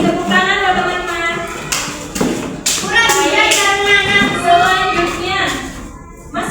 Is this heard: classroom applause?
yes